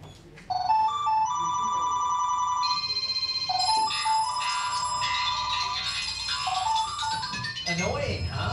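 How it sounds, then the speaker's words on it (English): A cell phone rings with a loud, melodic electronic ringtone that repeats its short tune in phrases and continues through the whole stretch. "Cell phones are everywhere. Beeping, buzzing, blaring."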